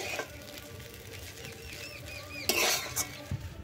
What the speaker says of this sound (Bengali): চাউমিনটা খুব ভালো করে এর সঙ্গে মিশিয়ে নেব